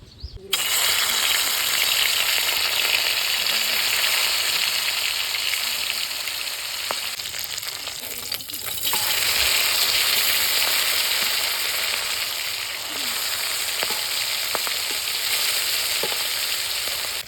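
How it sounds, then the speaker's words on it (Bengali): Magur fish fries in hot oil in a wok, giving a steady, dense sizzle that stays loud and unbroken throughout, with faint clinks now and then. "মাছটা ভাজা হয়ে গেছে, এবার তুলে নিই।"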